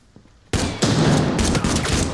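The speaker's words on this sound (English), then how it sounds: "That was a shotgun." Shotgun fire in the video game Arena Breakout Infinite: a sudden loud blast after a quiet start, followed by a second close heavy shot and echoing report.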